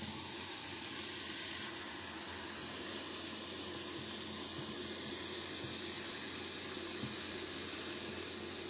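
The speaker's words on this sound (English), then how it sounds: "Submerge your chia planter in a bucket, pot, or sink for 30 minutes to allow the clay to absorb the moisture." A tap runs steadily, filling a sink to soak a clay chia planter, producing a continuous, close, hissing rush of water with no talk.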